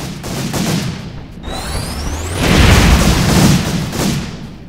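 Explosion ability blasts from the Peroxide video game, a dense stream of booming detonations and rumbling thuds with a whooshing sweep, loud and continuous.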